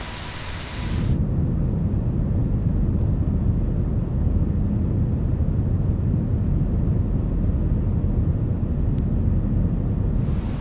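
An Airbus A321 with full flaps comes in to land in Microsoft Flight Simulator, a deep, steady engine and wind roar swelling in after a second and holding loud and constant.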